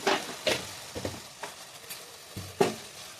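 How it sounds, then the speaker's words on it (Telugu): Spoon stirring chili powder and salt into a pan of chicken curry, a handful of scraping, clinking strokes at uneven intervals over a faint sizzle, close and fairly quiet. "ఒకసారి మిక్స్ చేస్తున్నాను."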